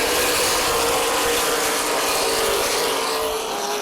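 CRA Super Series race cars at Anderson Speedway, a short oval, give a loud, steady engine roar with a dense mechanical rasp that eases slightly toward the end, with no voices.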